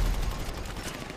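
Gunfire in GTA V Online, a dense, continuous burst of shots and low booms filling the whole short moment at steady loudness, with no clear talk over it.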